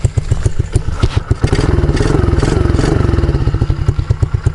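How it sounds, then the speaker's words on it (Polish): A motorcycle engine idles with a steady, rapid exhaust pulse and throaty low-end rumble, close to the microphone and fairly loud, with a few revs and clattering thumps along the way. "Ale jak ładnie wydech pracuje, nie?"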